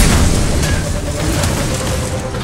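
Explosion in the real-time strategy video game C&C: Rivals, a loud sustained low rumbling boom that fills the whole stretch and slowly fades slightly.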